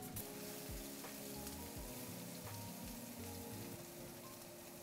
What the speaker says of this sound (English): I'm smelling some hot oil, so let's get our shallots and garlic in there.